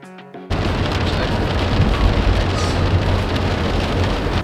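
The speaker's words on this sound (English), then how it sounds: "So, it's super rainy," Heavy rain pouring down steadily on an early morning, a dense continuous wash that swells in after a brief quieter opening and stays loud throughout with no talking.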